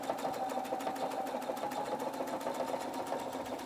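A Husqvarna Viking Opal 690 sewing machine runs a steady stitching burst of quilt stitches at high tension, a continuous close mechanical whir with rapid regular needle ticks throughout.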